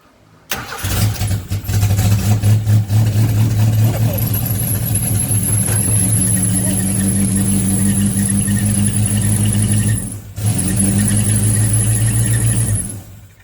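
An Austin Mini A-series engine with a temporary fuel system cranks and catches, then runs loud and close at a steady idle, briefly dipping near the end before picking back up.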